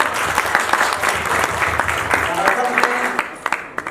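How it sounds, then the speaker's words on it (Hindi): A small group breaks into applause after a good question, brisk steady clapping close by, with a few distinct final claps as it dies away. "इसके लिए ताली बजाती है, बहुत अच्छा"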